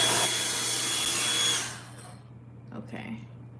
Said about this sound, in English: I love this dryer. It gets my hair looking so nice and straight.